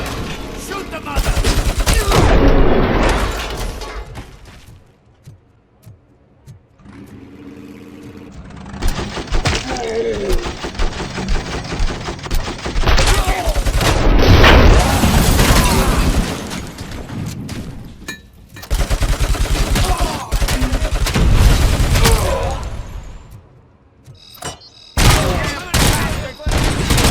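Bursts of gunfire and fusillades from the video game RoboCop: Rogue City, loud and dense, in several long volleys broken by brief lulls, with speech mixed in.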